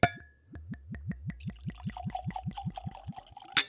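The Botanist Islay gin glugs out of a bottle in a steady rhythmic series of gurgles, close and clear, with the liquid splashing into a glass toward the end.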